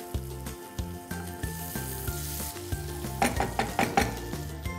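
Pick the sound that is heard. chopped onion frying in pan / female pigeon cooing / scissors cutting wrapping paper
chopped onion frying in pan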